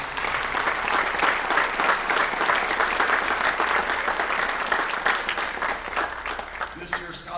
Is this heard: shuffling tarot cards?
no